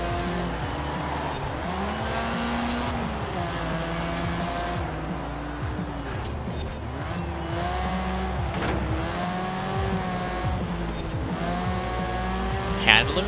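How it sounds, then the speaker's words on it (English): A Mazda RX3 in Forza Horizon 4 revs hard as its wheels spin and squeal off the line, the engine note climbing through repeated gear changes, loud and continuous with tire screech layered over the drone. "Wheels spin off the line"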